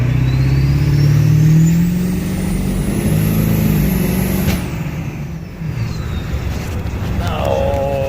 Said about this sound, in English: I'm in my pickup right now after installing the Kc66 kit, and this thing sounds amazing